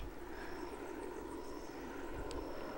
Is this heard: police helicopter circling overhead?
yes